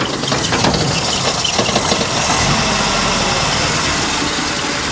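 A cold Nissan Pulsar engine idles with a steady, loud mechanical rumble, a rattling ticking texture running throughout, and no voices.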